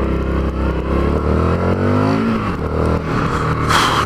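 An Indian FTR 1200 twin-cylinder motorcycle with a large wrapped exhaust revs loud and close, its engine note climbing and falling steadily throughout without any talk.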